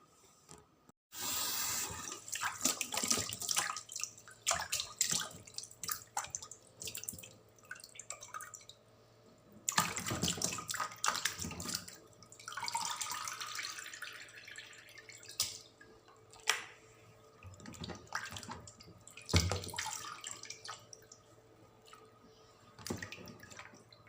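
Water runs and splashes in uneven bursts as cut chicken is rinsed under a tap at home, with quieter pauses between gushes of water and dripping; nobody speaks.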